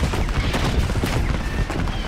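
Dense gunfire in the game Call of Duty: Infinite Warfare, a continuous loud wash of rapid shots and blasts filling the whole stretch, with no clear talking.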